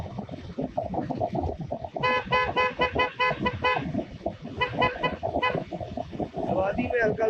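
A 125cc motorbike's horn sounds in repeated short bursts on a mountain valley road, loud over engine and road noise.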